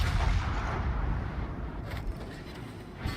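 Heavy naval guns of a warship in World of Warships boom in a deep, rumbling salvo that rolls on, loud and low, fading into a lingering roar.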